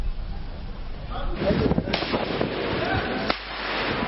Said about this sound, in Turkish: Oradan karşıdan vuruyorlar, onlar atıyorlar